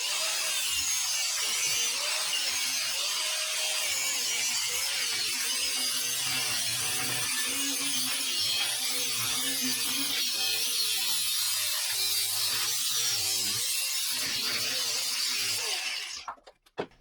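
A power tool grinds and shaves metal off the spindle of a Makita drill during repair, a continuous harsh rasp running steadily and close for most of the clip before cutting off near the end.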